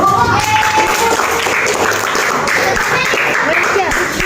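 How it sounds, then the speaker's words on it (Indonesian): A classroom of students claps for a group of classmates during a teaching session, a busy, crowded round of applause blended with children's voices and room noise, loud and continuous. "tepuk tangan dulu untuk kelompok ini"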